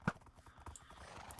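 Horse hooves clip-clop in a Minecraft modpack, with faint thuds and a soft neigh among light game sounds.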